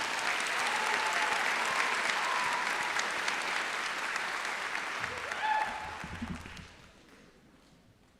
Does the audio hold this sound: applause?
yes